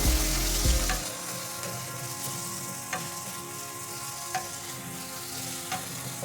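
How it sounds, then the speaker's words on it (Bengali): Masala with melted tomato frying in oil in a pan for a bread upma, a steady close sizzle with a few stirring clicks and a brief louder clatter at the start. "তারপর আবার একটু মশলাটাকে কষিয়ে নেব"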